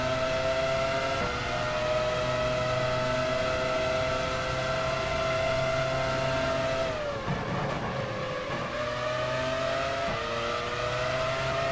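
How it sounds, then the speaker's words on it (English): Formula 1 car engines from the racing game F1 Challenge 99-02 at the 1999 British Grand Prix, a loud sustained high-pitched whine of several cars holding near-steady revs, dipping briefly as gears shift, then climbing again. "I never thought these engines sounded that bad."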